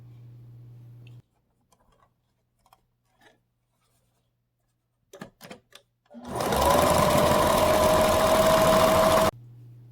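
After a few soft handling clicks, a sewing machine starts up and runs steadily, stitching flat along twice-folded fabric edges of a homemade face mask, a loud close whir that cuts off sharply.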